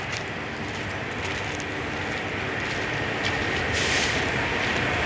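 A train runs past in a steady, continuous rumble with broad rail noise that swells slightly toward the end, loud and close, with no talk over it.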